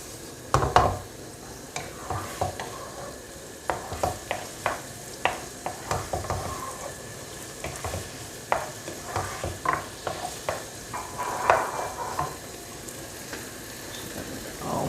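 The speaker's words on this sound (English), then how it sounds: "Just turn the heat up a little bit just to get it sizzling a bit more." Diced onion sizzling in a soup pot on a stove while being stirred, with repeated scraping stir strokes over a steady frying hiss, close and moderately loud.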